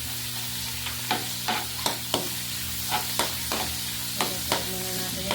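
Garlic frying in a pan for pork adobo gives a steady close sizzle, broken by regular scraping stirs about every half second to second, with no voices.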